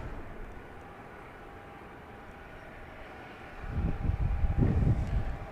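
An airliner in California One livery approaches to land at Dallas Love Field. Its low, distant rumble swells noticeably toward the end over a quiet outdoor background.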